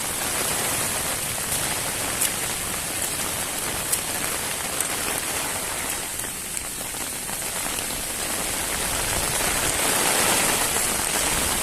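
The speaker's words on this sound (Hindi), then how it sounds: "और बारिश भी हो रही है" Rain falls steadily on the Harishchandragad trekking trail, a dense, even hiss of drops on surfaces around, loud and unbroken with no voices.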